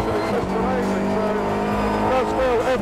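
A Seat Leon Cup Racer touring race car accelerating hard, its engine a loud, close, continuous rising drone with strong harmonics and shifting pitch, with a brief tyre squeal on the track.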